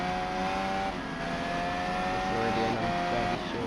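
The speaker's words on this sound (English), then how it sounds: "here's someone coming out on track, and then outlap Logan Sargent, currently in P4." A Formula 1 car heads out on track during qualifying at the Spanish Grand Prix, a steady distant engine drone with tonal whine holding throughout, no talk over it.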